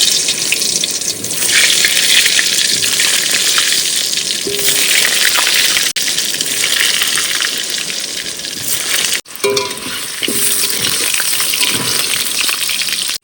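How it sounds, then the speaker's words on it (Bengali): Potatoes frying in hot oil in a wok give a steady, loud sizzle and crackle that runs almost without a break, with a brief dip near the end before the frying picks up again. "তেল গরম হয়ে গেছে এবার আলু দিয়ে দেবো"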